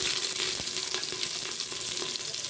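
Garlic and green chillies fry in a hot pan for coconut pulao, giving a steady, close, loud sizzle with faint crackles and occasional soft stirring taps throughout.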